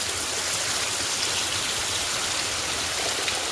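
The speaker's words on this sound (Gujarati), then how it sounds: "કેટલો અંધાધાર વરસાદ વરસે છે" Heavy rain pours down in a dense, unbroken roar of hissing water, loud and steady throughout with no voices, beside a buffalo milking area.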